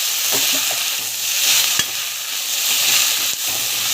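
Fresh coriander and mint leaves with urad dal sauté in oil in a pan for pudina-kothamalli chutney, a steady loud sizzle with occasional scrapes and taps of the stirring spoon, no talking.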